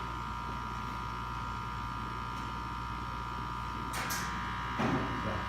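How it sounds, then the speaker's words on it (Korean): An old laser cutter in a university architecture workshop powers up: a steady electric hum runs throughout, with a couple of brief clicks and rustles near the end and no talking. "기계 켜볼게요."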